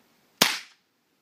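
A single sharp shot from a Fort-12G gas pistol cracks out close by, a sudden bang with a short fading tail, then silence.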